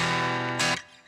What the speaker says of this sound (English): Ah, that's more distortion.